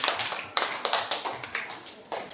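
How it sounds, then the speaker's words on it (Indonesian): A brief burst of light applause from a small group of sixth-grade pupils in a classroom, scattered claps fading in and out over a couple of seconds. "Iya, tepuk tangan untuk semuanya"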